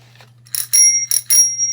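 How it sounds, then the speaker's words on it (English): Bicycle bell rung four times in quick pairs, each bright metallic ring loud and close, with a steady low hum underneath. "a bicycle bell works fine too"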